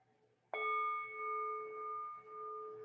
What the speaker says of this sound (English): The first ringing of the bowl, your invitation back to awareness.